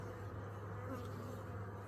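Honey bees buzz in a steady, dense drone at an active beehive, the hum close and continuous throughout with no voices.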